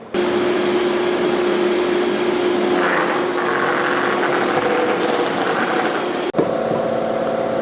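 A CNC router machines a recessed cove handle into a wooden panel with a chamfer cutter, a steady loud whine and motor roar running continuously, with a brief sharp knock near the end before the tone shifts.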